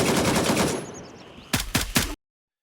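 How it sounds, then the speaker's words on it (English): Gunfire in the video game Gray Zone Warfare: a dense rattle of shots fading off, then three loud, close, separate reports before an abrupt cut to silence. "The guns sound great suppressed or going loud."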